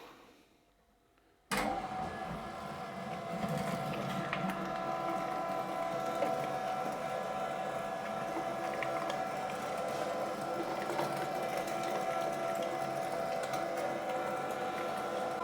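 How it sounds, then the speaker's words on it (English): A meat grinder fitted with a 6 mm plate switches on abruptly and grinds lean meat for cabanossi, a steady, faint mechanical whir with a constant hum that continues without pause. "I will now grind the lean meat first"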